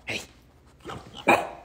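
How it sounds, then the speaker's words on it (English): Three sharp barks from a dog in a home setting, spaced apart with short pauses, close and fairly loud, with no talking over them. "What are you barking at?"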